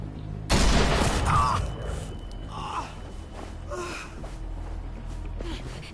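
A sudden loud burst of gunfire from the zombie game The Walking Dead: The Final Season erupts and then gives way to tense gasps and low voices with a lingering rumble underneath.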